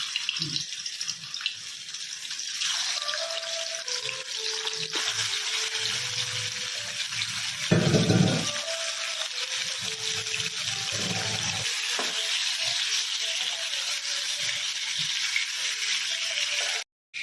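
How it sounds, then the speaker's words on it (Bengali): Chicken pieces fry in hot white oil, giving a steady, dense sizzle that runs the whole time, with a brief louder surge of crackling partway through. "তেলটা এবারে গরম হয়ে গেছে, আমি মুরগিটা একটু ভেজে নিচ্ছি"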